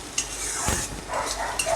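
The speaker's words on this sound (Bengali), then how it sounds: "এবার আমি পেস্টটা দিয়ে আরও 5-7 মিনিট কষে নেব।" Kolmi greens sauté in a pan with freshly added spice paste, giving a steady sizzle broken by a few brisk stirring scrapes of a spoon against the pan, close and fairly loud.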